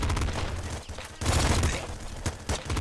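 Rapid bursts of pop gun fire in the top-down shooter Nuclear Throne, a dense clattering volley with a short pause before the shots resume, loud and steady throughout.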